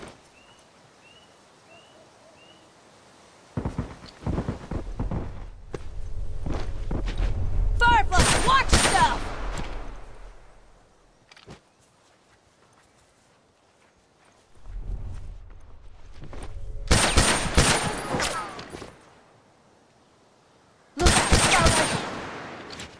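Rifle gunfire cracks in a video game, with several loud volleys separated by quieter stretches, alongside horse hooves clopping and rumbling game ambience.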